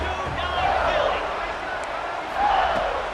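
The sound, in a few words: stadium crowd yelling in EA Sports College Football 26 video game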